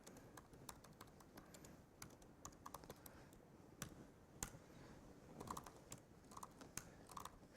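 Keyboard typing on a computer during a live programming talk, a quiet run of scattered clicky keystrokes at irregular rhythm with brief bursts and pauses, close and soft against low room noise.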